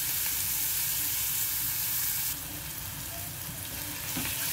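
Onions, green chilies and ginger paste fry in a pan, a loud, dense sizzle with a low rumble beneath, easing slightly partway through and then continuing steadily; no voices.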